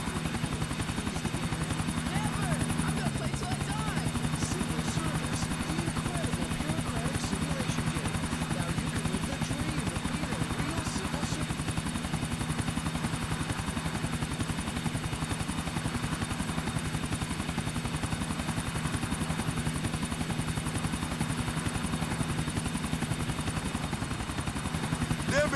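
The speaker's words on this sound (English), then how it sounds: "Chopper, stick to him, Nico." A police chase helicopter in the GTA 4 video game drones steadily, its rotor thrum and engine whine continuous and even throughout, with voices speaking over it at times.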